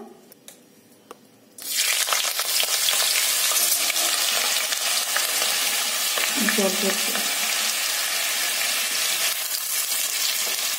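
Potato bhaji frying in a home kitchen pan, a steady loud sizzle starting abruptly after a quiet opening and continuing unbroken, with occasional stirring scrapes.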